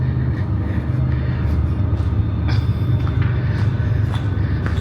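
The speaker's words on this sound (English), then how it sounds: "You can also hear a train going by." A steady low rumble of a train passing on nearby tracks, heard from an abandoned parking garage, continuous and moderately loud, with faint clicks and knocks scattered on top.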